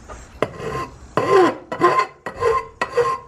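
A hand file rasps back and forth over the cut edges of an intake pipe to smooth away burrs. Several loud, close strokes follow one another in an uneven rhythm.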